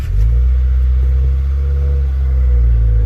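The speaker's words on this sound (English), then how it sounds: "Start my car for a second." A 2016 Subaru WRX engine runs at a steady idle after starting, a loud, close, continuous low rumble holding even throughout with no voices.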